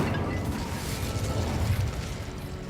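The Incendio fire spell fires off in Hogwarts Legacy with a loud, close whooshing burst that crackles and rumbles for a few seconds, no voice on top.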